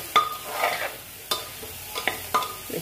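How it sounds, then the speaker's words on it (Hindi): Ridge gourd and chana dal fry in a pan while a spoon stirs them, giving soft sizzling with several sharp scraping knocks spread through the moment, close by. "इसे हम भूंजेंगे।"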